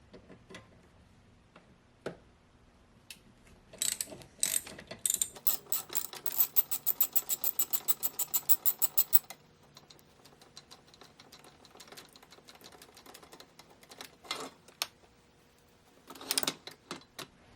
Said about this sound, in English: removing this Torx head bolt on both sides